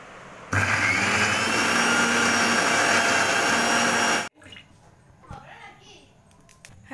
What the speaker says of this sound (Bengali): পেঁয়াজটা বেটে নেবো এবার।